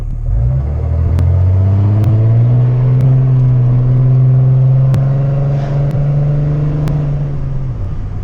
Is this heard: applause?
no